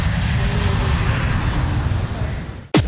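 A jet airliner's engine roar builds steadily and loud for nearly three seconds, a broad continuous rumble that cuts abruptly into a brief rising whoosh at the end.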